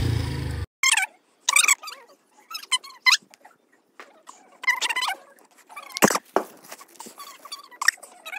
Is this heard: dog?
yes